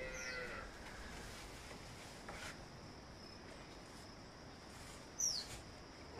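Cattle moo on a remote rural farm near Catarata Ayil, the calls faint and distant over a quiet background of insects, with one brief birdlike chirp near the end.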